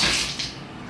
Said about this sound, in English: But there's how the tub runs.